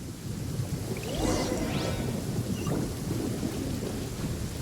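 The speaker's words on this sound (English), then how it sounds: "Uh-oh! Lightning storm!" Distant rolling thunder during a lightning storm in the Genshin Impact video game, a low sustained rumble with rain-like hiss and faint game effects over it, no voices.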